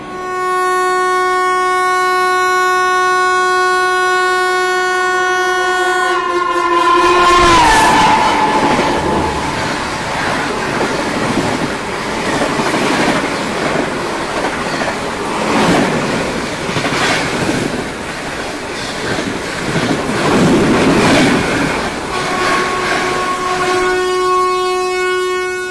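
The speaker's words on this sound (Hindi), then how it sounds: "सीमांचल एक्सप्रेस जो निकली है ना भाई, पूरा हॉर्न बजाते हुए, ज़बरदस्त था" Seemanchal Express passenger train in India thunders past with a long, loud sustained horn at the start, then rumbling wheels and clattering rail joints for many seconds, and the horn blasts again near the end.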